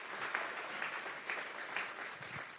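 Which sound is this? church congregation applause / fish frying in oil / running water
church congregation applause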